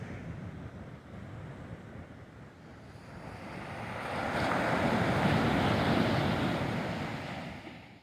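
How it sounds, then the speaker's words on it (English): Sea waves break and wash onto the shore at the coastal end of the Mountain to Sea Trail, a broad hissing roar mixed with wind noise that swells louder midway, then eases. "here's the sea."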